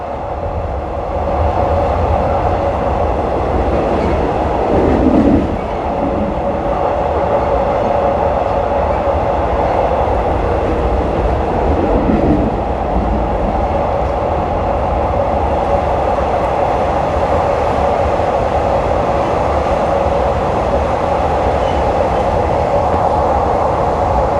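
A train rolls from Don Mueang to Krung Thep Aphiwat Central station on a Bangkok evening run, its steady loud rumble and wheel noise continuous throughout, heard from on board.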